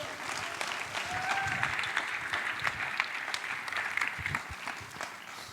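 An audience in a college chapel claps warmly and steadily to welcome a speaker to the stage, a dense, sustained round of applause with no voices.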